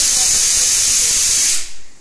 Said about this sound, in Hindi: सब्जी में तड़का लगा दिया